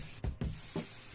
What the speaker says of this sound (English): I'm gonna just spray it.